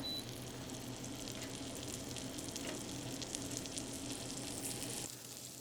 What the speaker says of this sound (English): Now we got some melted butter in the pan. Let's brown these steaks.